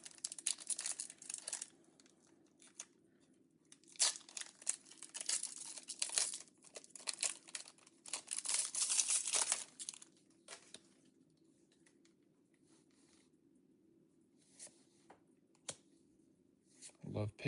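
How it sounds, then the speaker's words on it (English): Foil Lorcana trading card booster packs are torn open close by, with bursts of loud crinkling and ripping in the first ten seconds, then quieter scattered rustles and clicks. "opening these cards sometimes can be a hassle."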